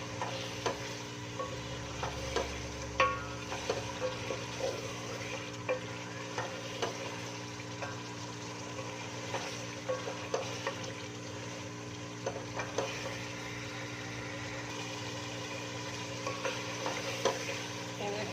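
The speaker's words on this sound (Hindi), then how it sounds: "हमारे चिकन अच्छे से इसकी भुनाई कर रहे हैं।" Chicken with tomatoes fries in ghee for a Punjabi-style aloo gosht, giving a steady close sizzle broken by frequent clicks and scrapes of stirring throughout, with no talking.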